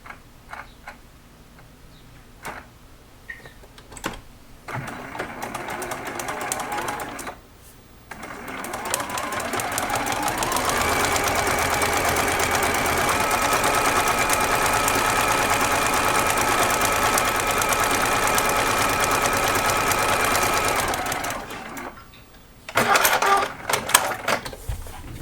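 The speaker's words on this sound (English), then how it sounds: "we are sewing this very first seam" A sewing machine set to a short 1.2 stitch length stitches the first seam of a quilt. The motor runs in a steady, loud, continuous whir for about ten seconds, with short bursts and handling clicks before and after.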